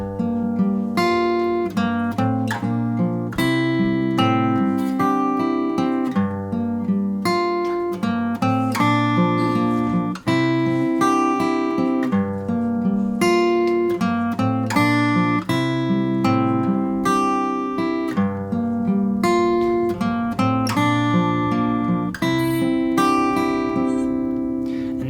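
Dense, steady fingerpicked guitar playing a song, a bass line rolling under melodic notes, played continuously and fairly loud for the whole stretch with no voices.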